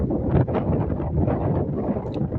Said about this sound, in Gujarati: થોડો પવન વધારે છે